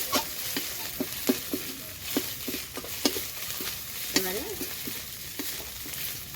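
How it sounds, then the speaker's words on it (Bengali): Ginger, green chili and cumin seeds fry in a pan with a continuous close sizzle, punctuated by regular taps and scrapes of a spatula, with no talk. "আদা কাঁচা লঙ্কা আর জিরেটা ভাজা হয়ে গেছে"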